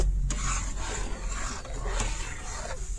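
Ground coriander, cumin and salt being stirred together in a pan while cooking palak paneer, giving a steady close scraping and rubbing sound that continues throughout, with no voices.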